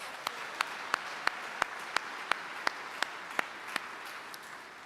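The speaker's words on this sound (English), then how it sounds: "let's give them a round of applause" Faint, distant applause at an Army retirement ceremony honoring a fife and drum corps, with a dozen sharp evenly spaced claps standing out over a soft background of clapping.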